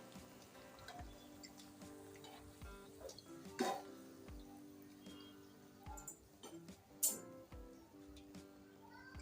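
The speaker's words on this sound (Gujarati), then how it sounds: "તેને આપણે ચીપિયાથી આ રીતના આપણે ઝારામાં લઈ લઈશું" Fried jalebi lifted from hot oil with metal tongs into a strainer: soft sizzling frying in the background, punctuated by a couple of distinct metallic clinks, quiet and close.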